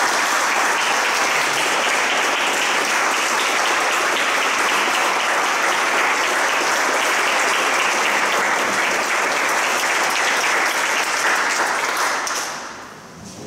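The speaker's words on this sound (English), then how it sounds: "please join me in one last round of applause for Chris Daynorowicz" Sustained applause from an audience at an Eagle Scout court of honor at Hawk Mountain Scout Reservation, a dense steady wash of many hands clapping for over twelve seconds before tapering off at the end.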